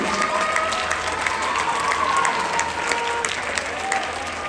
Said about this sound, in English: big round of applause for these folks standing on stage